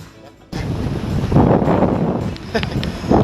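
Strong gusty wind rushes over the microphone aboard a robust 1980-built sailboat out on open water, swelling loudly after a quieter start and staying close and heavy, with a voice breaking through briefly.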